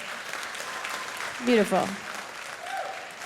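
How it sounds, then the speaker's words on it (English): An audience at a stand-up comedy show claps hands in a steady wash of applause beneath someone speaking, with a brief louder burst midway. "Clap your hands if you have at least 20 years."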